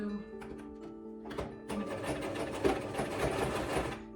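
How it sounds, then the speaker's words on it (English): A sewing machine stitches a seam very close to the fabric edge, starting with a few short bursts and then running steadily and fairly loud up close. "to sew very close to the edge, because I want this seam to be inside of another seam"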